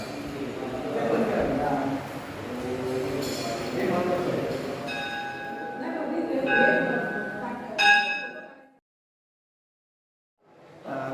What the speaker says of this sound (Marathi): ही मंदिरातली घंटा।